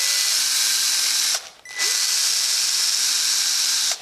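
A cordless power drill whines at high, steady speed while backing screws out of a Yamaha FZ07 motorcycle air snorkel, with two long bursts and a brief pause between them, close and loud, no talk.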